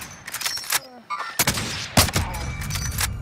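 Gunfire from the video game Call of Duty: Modern Warfare comes as several sharp separate shots and short bursts spaced irregularly, close and punchy, with a voice speaking briefly between them.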